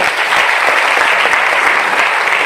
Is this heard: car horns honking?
no